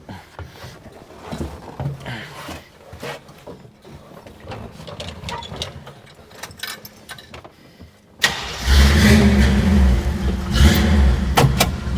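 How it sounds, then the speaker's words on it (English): Quiet clicks and rattles, then an AMC V8 engine in a Jeep CJ5 with modified exhaust fires up and roars loudly with a deep, throaty exhaust rumble that holds steady to the end. "I love to hear the sound of these AMC V8s"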